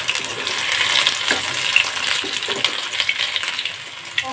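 Cauliflower pakoras fry in hot oil, with a loud, close, bubbling sizzle and crisp crackles that hold steady throughout, and no voices.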